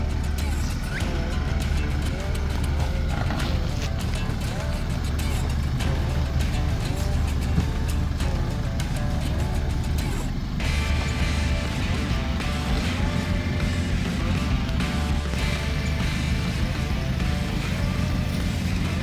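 A Toyota Land Cruiser crawls through an axle twister obstacle on a 4x4 training course, its engine a steady low rumble close by with scraping and knocks throughout, mixed with occasional background voices.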